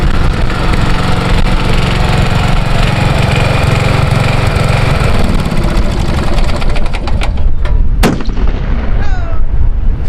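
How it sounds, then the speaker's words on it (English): A mini hot rod engine runs loud and rough outdoors, with a steady engine roar broken by sharp bang-like backfire pops, including a strong crack near the end as the engine winds down. "You kind of like that backfire, don't you?"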